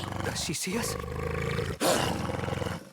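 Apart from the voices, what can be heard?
wolf growling in a video game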